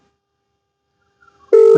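A telephone starts ringing after near silence, with a loud tonal ring beginning abruptly at the end, heard alone.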